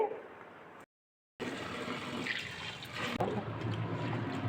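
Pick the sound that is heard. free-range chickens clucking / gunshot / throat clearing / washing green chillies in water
washing green chillies in water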